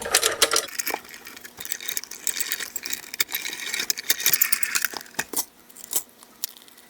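A small manual die-cutting machine cranks a steel die through thick foam for a cocktail shaker card, giving a close run of crunchy, clicking, crinkling pressure sounds with sharp ticks, alone without talk.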